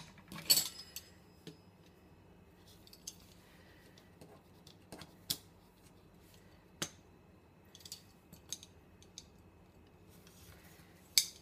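Scissors snip through cake lace in a handful of sharp, sparse clicks, with one louder cut near the start and a few quieter snips spread through an otherwise quiet room.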